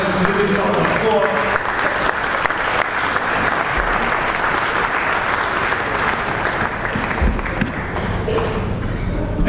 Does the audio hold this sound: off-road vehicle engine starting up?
no